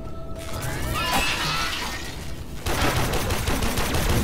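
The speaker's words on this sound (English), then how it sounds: "You gotta forgive my shooting at the moment." Gunfire from the player's weapon in the video game Warframe: a rapid burst of crackling shots with shattering, metallic impacts that grows denser and louder partway through.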